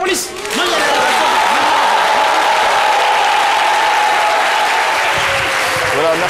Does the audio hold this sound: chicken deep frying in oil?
no